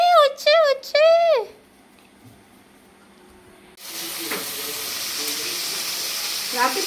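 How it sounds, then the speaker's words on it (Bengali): Onion stalks and potato frying in a pan for an evening dish, a steady hissing sizzle that starts midway and carries on evenly after a short stretch of melodic vocal sounds and quiet. "আলু পেঁয়াজ কলি ভাজছি"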